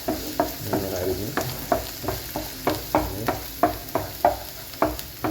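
Finely chopped garlic and ginger fry in oil in a pan, with a bright sizzle broken by regular spatula strokes roughly every half second, close and clear.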